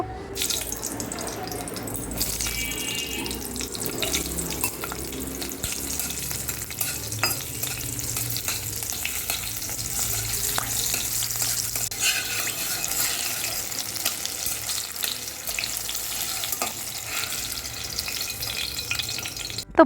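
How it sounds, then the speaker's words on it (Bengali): Poppy seeds and green chilies fry in oil for aloo posto, giving a steady, close sizzle with stirring and faint kitchen clatter throughout, with no talking. "তারপরে তার মধ্যে আমি কাঁচা লঙ্কাও ফ্রাই করে দিলাম কাঁচা লঙ্কাগুলোকে কিন্তু একটু ফাটিয়ে নিয়ে ফ্রাই করেছি"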